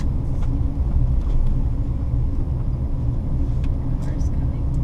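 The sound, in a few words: car approaching on mountain road in Faroe Islands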